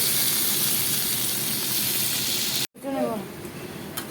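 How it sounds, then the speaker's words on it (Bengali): Potatoes fry in oil before a soybean curry with a loud, steady, close sizzle. After a brief cut, the frying continues with a short voice heard over it. "সোয়াবিনের জন্য আমি আলুটাকে একটু ভেজে নিলাম।"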